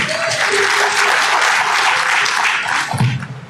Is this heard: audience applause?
yes